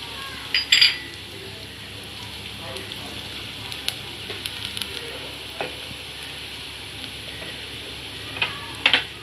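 Turmeric, asafoetida and spice powder stirred into fried onion in a pan, a steady close sizzle with scraping spoon strokes and sharp metallic clinks against the pan, the clinks clustered near the start and the end.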